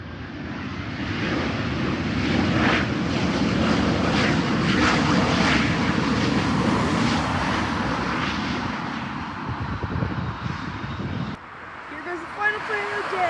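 A United CRJ regional jet from Newark rumbles past at Portland's PWM airport under cloudy skies, a loud steady roar with broadband engine noise that holds for about eleven seconds before cutting off.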